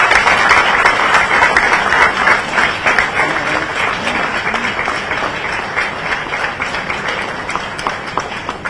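Audience applause at a public event in Chhattisgarh, a dense, loud wash of many hands clapping that holds steady and eases slightly toward the end.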